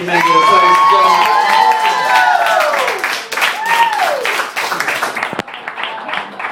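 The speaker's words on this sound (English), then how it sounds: "Keep up the round of applause." An audience at a comedy roast claps and cheers loudly, the applause strongest at first and slowly thinning, with a bright whistle-like tone and crowd shouts over the clapping.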